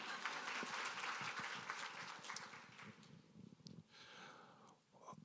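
Scattered audience clapping at a university mental health symposium, fairly faint and thinning out, with breathing and small noises near the microphone.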